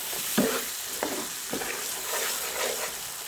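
Spice paste with tomato paste frying in a pan for a foli fish curry, stirred with a spoon: a soft, steady sizzle broken by several scraping strokes, close and fairly quiet, with no voices.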